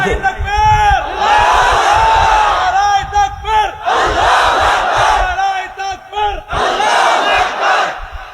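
A large crowd roars takbir, shouting Allahu Akbar together in loud, repeated waves of massed voices, each chant swelling and then dropping briefly before the next.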